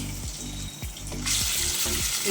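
Ground chicken frying in oil in a home kitchen pan, a close hiss of sizzling with several soft knocks of stirring, growing brighter toward the end.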